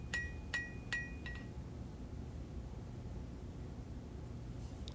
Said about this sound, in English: now I'm just using that lighter hammer and taking out the hammer marks